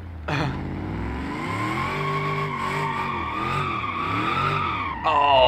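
In BeamNG, a drifting car spins out with a steady skidding tire squeal over a revving, shifting engine note that holds loud for several seconds, then sharpens near the end.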